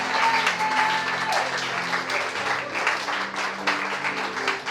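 A church congregation applauds in acclaim of Jesus during a French-language sermon, sustained dense clapping with a steady crowd roar and faint voices underneath, while a low sustained organ or keyboard tone hums throughout.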